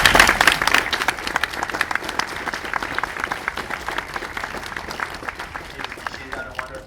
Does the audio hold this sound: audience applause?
yes